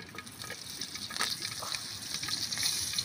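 Onion and chili frying in a pan, a continuous close sizzle and crackle with light stirring clatter, no talk.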